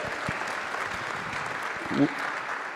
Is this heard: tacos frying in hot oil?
no